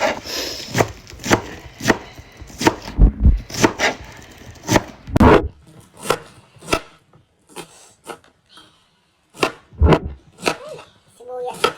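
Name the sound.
chopping vegetables for sotanghon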